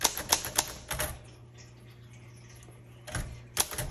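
Underwood Universal manual typewriter being typed on: a few sharp clacking keystrokes in quick succession, then a pause with faint low hum, then two more crisp strikes, close and clear.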